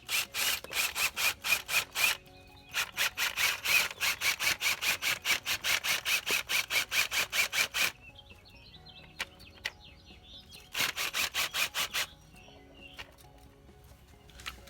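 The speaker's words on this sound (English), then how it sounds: "the auger is going to be your best method for installation" Auger grinding into the ground to dig a hole for a termite bait station, a rapid rhythmic scraping in long bursts that stop and restart, close and fairly loud.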